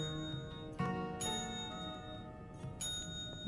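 A bell in the video game Luigi's Mansion 3 rings in a few bright, clear strikes spaced apart, with their tones hanging over a quiet, sustained musical background.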